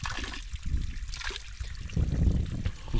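Mountain stream water trickling and burbling close by, uneven little gurgles and splashes that rise and fall, with no talk over it.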